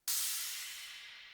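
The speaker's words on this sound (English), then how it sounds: "For the cymbals, add a crash." Single crash cymbal hit from an FL Studio future bass kit, a sharp bright attack followed by a long hissing wash that slowly fades, isolated and fairly quiet.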